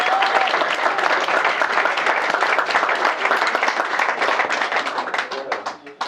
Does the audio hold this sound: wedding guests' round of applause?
yes